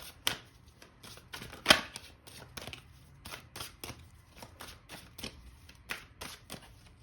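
Tarot cards are shuffled and drawn by hand, a run of quick, crisp riffling snaps and flicks at close range, irregular in rhythm and heard alone without talk.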